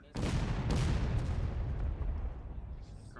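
A musket volley from a line of infantry in a War of Rights battle booms out at a distance, a single rolling blast that decays slowly over a few seconds.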